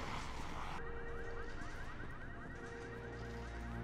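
An alarm blares in Resident Evil 6, a dense wailing, pulsing electronic tone that holds steady and loud throughout with no voices over it.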